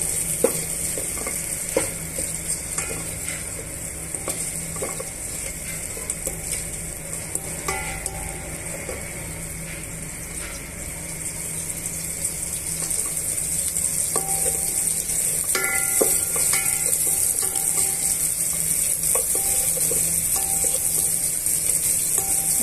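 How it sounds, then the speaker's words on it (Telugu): Chopped onion pieces and two or three green chillies frying in oil in a pan, giving a steady, close sizzle that holds for over twenty seconds, with occasional scraping stirs and no talk. "ఇవన్నీ కూడా బాగా వేయించుకుందాము."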